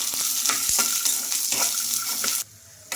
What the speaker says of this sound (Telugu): కొంచెం ఆయిల్ అయితే వేసుకోవాలి ఇవన్నీ వేసుకొని బాగా ఫ్రై చేసుకోవాలి